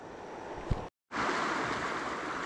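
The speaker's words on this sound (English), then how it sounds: "So the sluice is set back up for now. I'm just letting it run." Water runs steadily through a Vevor sluice set up for gold prospecting among glacial boulders, a close, continuous broadband rush that drops out for a moment and then resumes.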